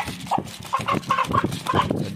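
A chicken with a snoring respiratory illness, after three days of treatment with medication. It makes a series of short, rasping, hoarse vocal sounds in an uneven rhythm, close and fairly clear.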